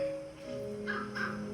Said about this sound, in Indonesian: Perhatikanlah burung-burung gagak.